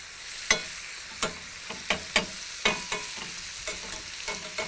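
Fish fries in a pan, with about a dozen crisp scraping strokes of a utensil over a faint sizzle, each stroke quick and close, irregularly spaced and fairly quiet.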